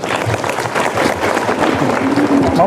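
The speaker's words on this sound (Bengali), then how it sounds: "একবার হাততালি হোক প্রশ্নের জন্য" A school hall audience at a girls' high school breaks into applause, a dense wash of clapping from many hands that carries on throughout, with a few voices mixed in.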